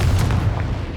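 A deep, booming blast from the Confringo fire spell in Hogwarts Legacy, heavy and rumbling throughout a short one-second burst with no speech.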